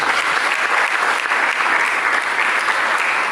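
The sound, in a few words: congregation applause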